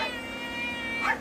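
A cat at a rescue shelter gives one short, clear meow near the end, close by, over a low steady background hum.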